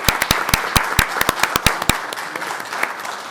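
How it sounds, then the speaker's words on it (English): A town select board meeting gives a round of applause for award recipients, with a few loud, close individual claps standing out over thinner clapping from a small room, tapering off after a few seconds. "Maybe a round of applause for all of the recipients."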